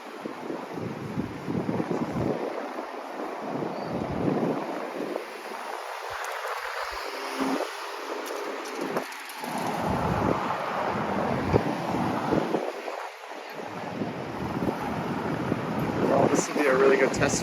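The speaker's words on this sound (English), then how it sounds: "It's quite windy." Gusty wind buffets the microphone with low rumbling thumps throughout, while someone talks underneath the blustery noise.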